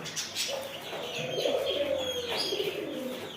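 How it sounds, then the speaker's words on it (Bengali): Several caged birds call at once in a poultry and bird shop in Oman, mostly low pigeon coos mixed with a few chirps, steady and nearby with no talking. "তো দেখেন এই পাখিগুলো ডাকতেছে"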